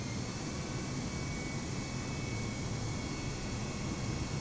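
Steady broadband roar of a jet aircraft engine during a takeoff or landing in a Microsoft Flight Simulator replay, constant and fairly quiet throughout with no voices.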